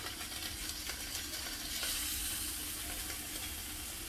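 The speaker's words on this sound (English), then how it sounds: "The pan is nice and hot. I'm going to put the steaks in." Pork chops sizzle steadily in a hot pan, a dense, even frying hiss with soft crackles, close and continuous with no voices over it.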